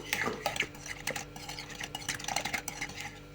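Quick, busy scraping and clinking of a spoon stirring pizza sauce with mustard in a bowl, close and fairly loud, with a rapid uneven rhythm and no voices.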